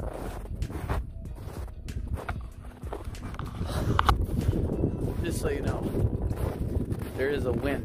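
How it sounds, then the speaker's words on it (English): A cold wind buffets the microphone on a Lake Michigan beach at Indiana Dunes in midwinter. The rumble gusts unevenly under someone talking close by. "There is a wind, a small wind out here."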